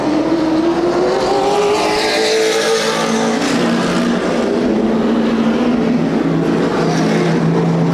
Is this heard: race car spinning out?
yes